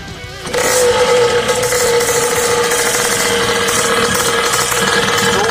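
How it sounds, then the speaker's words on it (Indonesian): A Yamaha RX King two-stroke motorcycle engine starts with a sudden burst and settles into a loud, steady, rattling idle close by, running continuously to the end. "Sambil kita ngecek mesinnya kawan-kawan, yang motor ini kawan-kawan, kita hidupi dulu."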